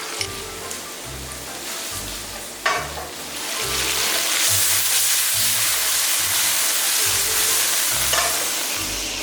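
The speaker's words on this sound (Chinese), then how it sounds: "把肥牛煎熟就可以了" Fatty beef slices pan-fry in hot oil, a loud, steady sizzle that swells after a sharp clatter partway through, with faint background music underneath.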